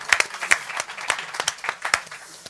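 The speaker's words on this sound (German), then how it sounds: "Blumen und Applaus." Scattered, distinct hand clapping from a small audience at a heritage club photo evening in Meppen, as flowers are handed to a speaker; crisp, uneven claps close by, moderately loud.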